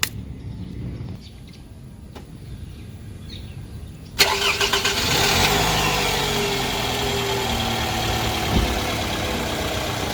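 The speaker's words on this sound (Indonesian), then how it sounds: "begitu mesin di starter, kuping kita sudah harus mulai langsung awas" A car's engine is cranked by the starter and catches abruptly after a few quiet seconds, then settles into a steady, fairly loud idle close by.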